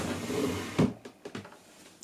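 A wardrobe drawer slides open with a thud and soft clunks, a few quiet knocks following in an otherwise hushed room.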